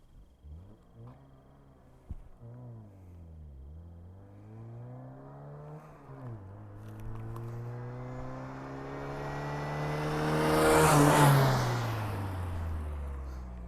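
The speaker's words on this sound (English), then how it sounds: "acceleration test number 2" Foxbody Mustang with coilovers pulls away from a standstill, engine climbing through several gears with shift dips, growing louder to a roaring peak near the end, no talk.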